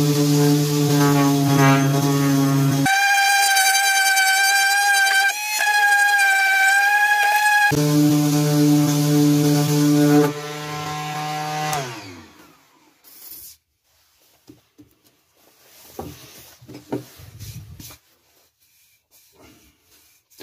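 A Parkside PAEXS20-LI-B2 20V cordless random orbit sander runs with a steady high whine, cutting out and restarting twice, then winds down into scattered taps and scrapes on a small piece of oak.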